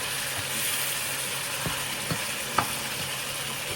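Garlic cloves sauté in a pan with a constant, even sizzle, broken by a few soft clicks and taps of a utensil against the pan, with no talking.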